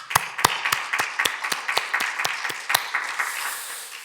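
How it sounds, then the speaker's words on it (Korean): A church congregation claps at a year-end Sunday worship service at Fullerton Presbyterian Church in 2020. Sharp, steady, evenly spaced claps sit close up over a softer wash of scattered clapping. "여러분 어디에 계시든 감사의 박수를 한번 올려드리겠습니다"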